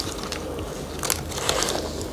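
A soft, chewy peanut butter cookie is bitten and chewed close up, giving faint crunching and squishy mouth sounds over a quiet background.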